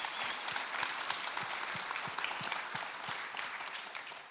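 A crowd applauds steadily at a faith-centred baseball gathering, dense clapping with a few sharper individual claps standing out, fairly quiet and distant throughout with no talking.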